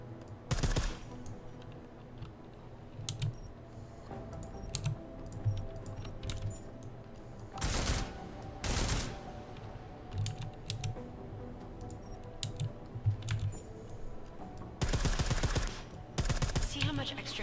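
Suppressed gunfire in the stealth-action game Deus Ex: Mankind Divided, muffled clicking shots fired in several quick bursts of two or three, spread through the stretch over a steady hum of game ambience.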